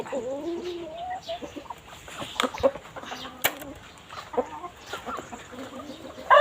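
Chickens cluck and murmur close by in short, irregular calls, with a few sharper squawks and faint rustling in between.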